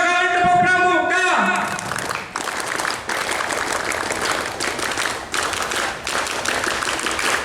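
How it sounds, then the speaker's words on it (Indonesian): A scout group does a rhythmic Pramuka clap together at a school Scout Day event, after a shouted voice at the start; brisk crowd clapping comes in close, full bursts. "Dua kali tepuk pramuka"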